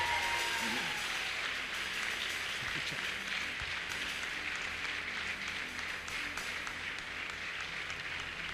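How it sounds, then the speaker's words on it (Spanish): Applause from a congregation at a Spanish-language church service, a dense, steady wash of many hands clapping that holds loud and even throughout with no talk over it. "denle un aplauso bien fuerte"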